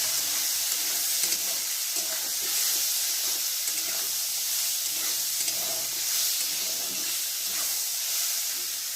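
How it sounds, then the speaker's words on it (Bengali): Boiled soybean chunks fry in a kadai of hot oil, giving a steady, broadband sizzle and hiss that holds throughout with faint stirring scrapes and no talk. "এখন আমি সেদ্ধ করে রাখা সয়াবিনটাকেও ভালো করে ভেজে নেব"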